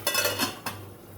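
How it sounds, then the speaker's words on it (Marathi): A metal lid is set down on a cooking pan with malpua, giving two close, bright clanks followed by a brief ringing decay, no speech. "झाकण ठेवते."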